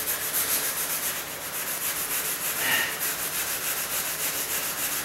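A rag wipes leftover stain residue off a wooden floor during a floor-staining job, giving a close, steady scrubbing rub that runs unbroken with slight swells.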